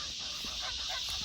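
Honking calls from a flock of five ducks on a small homestead, heard as a few brief, faint calls under a steady hiss of background noise.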